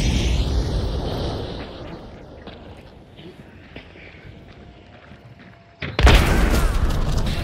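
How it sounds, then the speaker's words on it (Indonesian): An explosive crossbow bolt in the game Hunt: Showdown blows up with a sudden loud blast that rolls on for over a second, following a quieter stretch of background rumble. "Oh, crossbow-nya dia eksplosif."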